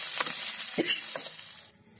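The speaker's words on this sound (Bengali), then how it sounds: "এবার কিশমিশটার সাথে মশলাগুলোকে ভালো করে নাড়াতে চাড়াতে হবে।" Raisins and spices fry softly in a pan while a spatula scrapes and knocks against it a few times, close and fairly quiet, the sizzle fading at the end.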